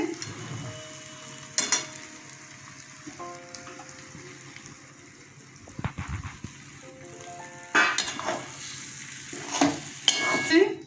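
Salted eggplant pieces coated with turmeric go into a hot pan and sizzle steadily while duck eggs are cooked alongside. Crackling frying noise runs throughout, close up. A few louder stirring and scraping bursts stand out, mostly near the end.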